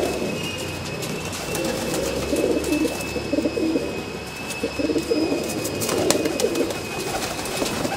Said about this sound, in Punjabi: ਮੌਜਾਂ ਮਾਰਦੇ ਹੋਏ ਕਬੂਤਰ ਸੁੱਖੇ ਵੀਰ ਚੰਡੀਗੜ੍ਹੀਏ ਦੇ